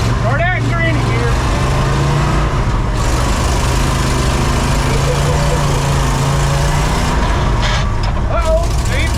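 A 1968 Ford F250 pickup engine runs loud and steady as the truck drives in low gear, a continuous heavy rumble with a droning hum heard from inside the cab, with people talking over it.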